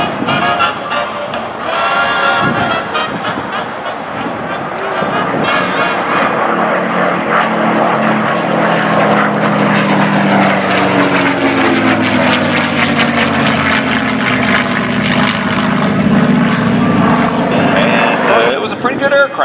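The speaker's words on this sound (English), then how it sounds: "Grumpy on short final, and the Mustang and the Spitfire," P-51 Mustang and Spitfire propeller engines drone loudly overhead at an aviation day, a deep rising and falling roar as the planes pass by, with someone talking over the noise.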